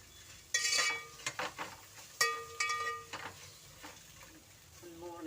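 A spiced masala frying in a pan for a chicken sambar, with a soft sizzle under intermittent clinks and scrapes of a metal spoon stirring against the pan, fairly quiet and close.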